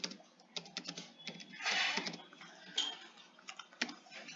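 Typing a Java print statement on a computer keyboard, close and fairly quiet, with a run of quick irregular key clicks, a denser burst in the middle and sharper single taps near the end.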